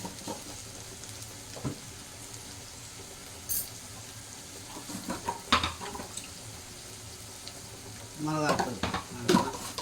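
Potato poriyal cooking in oil on a home stove, with a soft continuous sizzle and intermittent scrapes and clinks of stirring, a few louder bursts near the end.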